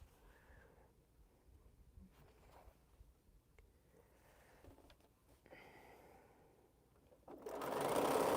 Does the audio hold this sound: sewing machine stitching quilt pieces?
yes